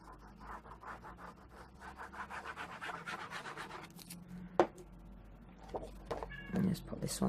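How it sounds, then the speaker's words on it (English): A cat meows faintly from downstairs beneath rustling and scraping of paper close by during papercraft album making. "cat's crying downstairs."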